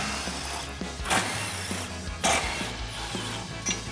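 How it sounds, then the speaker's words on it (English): A 15mm socket on a ratchet loosens bumper bracket bolts on a 2020-2023 Chevrolet Silverado 2500, making faint, close metallic clicks and short turns in uneven bursts with no talking. "So we'll use our 15mm socket to get those off."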